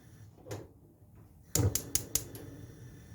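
A gas stove burner under a pot of lentil soup is switched on, a soft knob turn followed by a quick series of four or five sharp igniter clicks, close and fairly loud.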